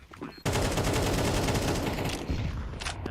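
Pistol gunfire in a Counter-Strike 2 tournament match: a dense, continuous volley of rapid shots fills nearly three seconds after a brief lead-in, loud and unbroken, with no voices.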